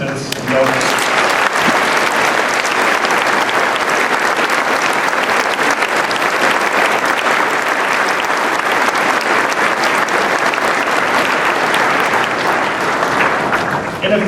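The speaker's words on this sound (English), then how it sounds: "I would ask you one more time to offer a round of applause to all of our participants and donors" Long, sustained applause from a large school assembly audience for participants and donors, a dense wall of clapping that holds steady throughout before tapering at the very end.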